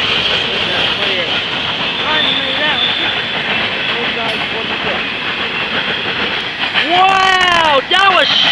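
A Norfolk Southern mixed northbound freight train passes at Marion, Ohio, with a steady, loud rolling rumble throughout and rising-and-falling squealing tones near the end.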